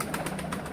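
Pigeons on a rooftop make soft, repeated wing flutters or coos in a dense, noisy burst less than a second long, close by, with no talking.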